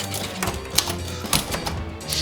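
Keys struck on a keyboard or typewriter, a brisk run of sharp clicks with a few louder accented strikes, close and alone with no voices.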